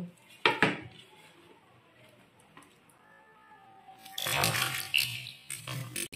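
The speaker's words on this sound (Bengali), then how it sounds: "তো আমি ধুদলটা কেটে নিয়েছি আর এটাকে আমি ধোবো" Cut sponge gourd (dhundal) being washed in water in a kitchen: a sharp clatter of a vessel, quiet handling, then a few seconds of close, loud sloshing and splashing.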